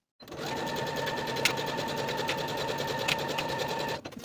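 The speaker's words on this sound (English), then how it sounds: "And then sew your underarm seams with a 3/8 inch seam allowance." A sewing machine runs steadily, stitching the underarm seams of knit dress sleeves. The close mechanical whir goes on without a break for about four seconds, then stops.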